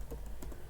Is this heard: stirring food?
no